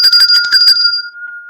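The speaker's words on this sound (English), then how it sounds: "that bell like hurt my ear a little bit" A bell struck in rapid repeated rings, bright and loud up close, then one clear ringing tone left to fade out alone.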